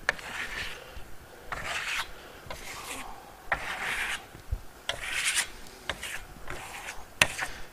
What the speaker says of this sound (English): So I'm just going to trowel it over.